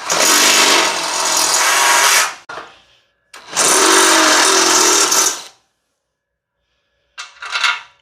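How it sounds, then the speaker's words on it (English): A step drill bit enlarges holes in metal on a car subframe being mocked up for an LS engine and Tremec TKX transmission, heard as two loud, close bursts of whining drilling of about two seconds each, separated by a brief pause, then a shorter final burst. "I'm going to use a step drill bit to kind of punch these holes out just a little bit."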